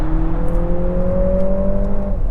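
A 2024 Lexus TX500h F Sport hybrid AWD SUV pulls away hard from a full stop, its engine note rising steadily in a loud, smooth drone heard from inside the cabin.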